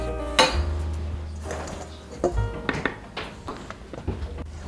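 Lemon bar crust ingredients are mixed in a bowl with a utensil, giving a series of clinks, taps and scrapes against the dish, loudest at the start and then coming in irregular bursts, with no talk.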